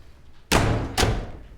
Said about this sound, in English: Did you just slam that door?